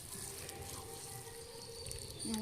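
Sambar of mixed vegetables and drumstick pouring in a steady liquid splash and trickle during a communal annadhanam meal, moderately loud and continuous, with background chatter.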